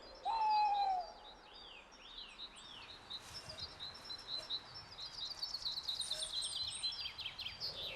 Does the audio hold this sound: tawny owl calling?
yes